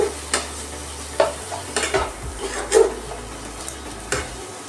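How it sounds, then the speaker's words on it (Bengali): Banana flower being mixed with spices in a pan, with intermittent scraping and knocking of a spatula against the metal at an irregular rhythm, close and moderately loud over a faint background hiss. "ভালো করে মশলাটার সাথে মোচাটা মেখে নেব।"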